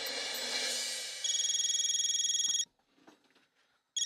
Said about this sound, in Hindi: मैं गणपत बहू को फोन करके यहाँ बुला लेती हूँ।